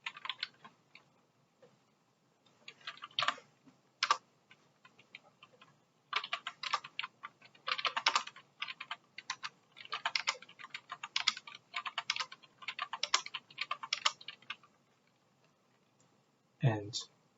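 Typing on a computer keyboard, irregular clusters of quick close key clicks with pauses between bursts, quiet overall, and one deeper thump near the end.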